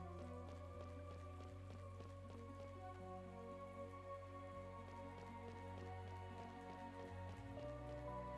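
Steady heavy rainfall in the Chained Echoes video game, a constant even hiss running the whole way over sustained musical tones, with no talking.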